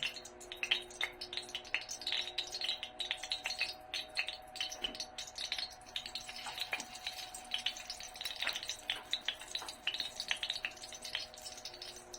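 Steady, gentle sizzling of flour-coated milkfish frying in oil, with scattered crackles and pops over a constant low hiss, fairly quiet and close.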